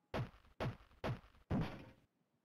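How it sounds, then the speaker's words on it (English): A pickaxe strikes a wall in a video game with four hard, evenly spaced knocking thuds, the last a little longer, heard alone and fairly quiet. "Let's use the pickaxe"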